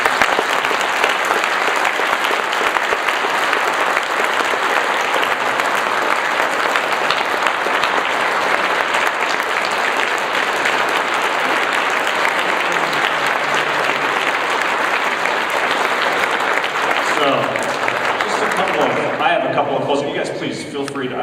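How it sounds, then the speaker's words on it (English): A seated church audience gives a panel a long, loud round of applause that holds steady throughout and thins out near the end, with some voices mixed in. "A round of applause for our panel"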